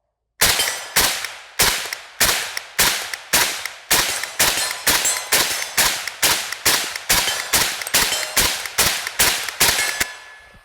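A rifle fitted with a YHM Titanium Phantom suppressor and a drum magazine fires about twenty evenly spaced shots in a steady rhythm, each a sharp loud crack with a quick decay, close by.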